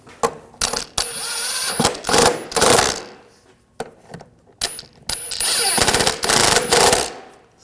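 Rapid ratcheting bursts from an impact or ratchet tool run down nuts on the transmission mounts of a 2007-2013 BMW 328i with the 3.0L inline-six, several loud clattering runs separated by short pauses.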